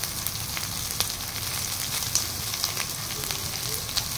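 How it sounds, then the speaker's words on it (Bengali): Green chillies and salt sizzle steadily in hot oil while being sautéed for a chital fish curry, a close, even frying hiss with occasional small pops and crackles. "এবার ভালো করে কষিয়ে নেব"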